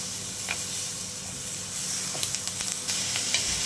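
Green chillies and garlic fry in hot oil with a steady, fairly quiet sizzle and hiss, dotted with small crackles and pops toward the end.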